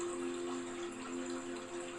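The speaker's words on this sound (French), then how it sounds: "Au loin, vous entendez maintenant le bruit de l'eau qui coule" Water flows steadily from a waterfall in a tree-lined forest clearing, a continuous soft rush with a low steady hum beneath it and no voices.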